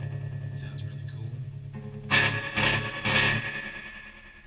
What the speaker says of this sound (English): I'm playing it today through my 1950s Premier rig. It's a Premier Reverb and a Premier 120, late 50s.